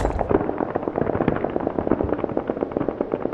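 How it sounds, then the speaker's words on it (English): Gunshots in the horror game Security Booth, a rapid continuous string of sharp cracks at a steady fast rhythm, loud and sustained throughout. "Those aren't firecrackers, right? Those are gunshots, I think."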